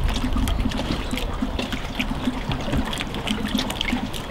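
Water poured into fishing ground bait mix, a close, steady trickling and splashing of liquid into the bowl with no voices.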